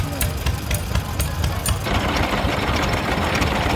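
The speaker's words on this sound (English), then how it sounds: "we have a Villiers V1C 2-stroke engine driving a dynamo, driving a reduction box, driving a grindstone." At a steam rally stationary engine display, a Villiers V1C two-stroke engine runs a dynamo, reduction box and grindstone, making a rapid, even chuffing beat over a busy outdoor background, close and moderately loud.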